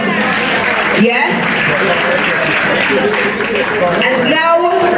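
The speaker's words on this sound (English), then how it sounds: "Give yourselves a round of applause for your resilience" Crowd at a Blue Mountain Coffee Day community program claps loudly and steadily, a broad roar of applause mixed with voices and an amplified speaker talking over it.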